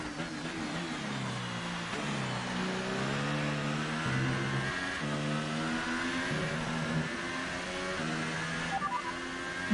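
Race car engine in a racing video game, revving in repeated rising pitch sweeps as gears climb and drop, steady and continuous with no talk over it.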